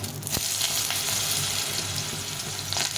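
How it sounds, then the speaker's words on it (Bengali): Potatoes frying in oil in a pan, with a dense, steady sizzle and crackle that holds at an even, fairly loud level close by. "প্রথমে আমি আলুটাকে ভেজে নেবো"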